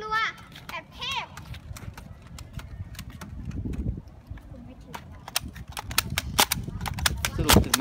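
Toy foam-dart Nerf blasters fire in a string of sharp, snappy pops scattered through the clip during a kids' cowboy-style shootout, with children's voices chattering and calling out in between.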